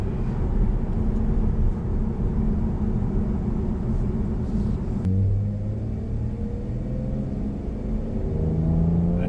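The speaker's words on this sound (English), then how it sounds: "I just want to keep making it make that backfire sound" Cadillac CT5-V sedan with its engine rumbling at low, steady, loud exhaust and a sharp pop partway through, after which a deeper burble shifts in pitch as the revs change.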